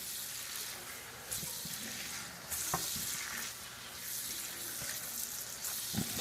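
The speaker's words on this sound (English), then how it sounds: "Start stir frying." Thin-sliced flank steak sizzles and crackles steadily as it is stir-fried in a hot pan, with intermittent scraping and stirring clatter as it is tossed around.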